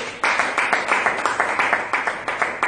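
A church congregation at a French-language Sunday service claps in a steady, rhythmic beat, the loud, dense patter of many hands sustained throughout with no voices over it.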